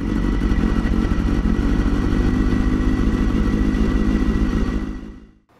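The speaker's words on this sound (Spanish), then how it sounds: "una motocicleta Honda Rebel del año 1998 de tan solo 125 centímetros cúbicos, pero bicilíndrica" A 1998 Honda Rebel 125cc twin-cylinder motorcycle engine runs close and loud with a steady pulsing idle-like chug, then fades out abruptly at the end, with no talk.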